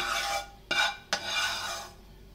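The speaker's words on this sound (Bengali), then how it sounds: "সুন্দর করে মিশিয়ে দিচ্ছি এবং মশলাগুলো সুন্দর করে দিয়ে দিচ্ছি" Spices being stirred into chicken pulao in a pot, a soft scraping swish of the spoon with two sharp clinks against the metal, close and quiet.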